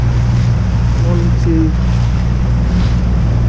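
Waves and gusting wind rush past a Laser dinghy under sail, a loud, constant broadband wash with microphone buffeting, while a coach briefly speaks.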